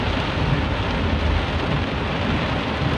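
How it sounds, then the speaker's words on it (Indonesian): Heavy rain drums steadily on a car roof and body, heard from inside a car with poor sound insulation while stopped at a red light in Semarang, Central Java; a dense, unbroken roar fills the whole stretch with no talk. "Suara hujan jadi masuk karena peredam mobilnya kurang bagus."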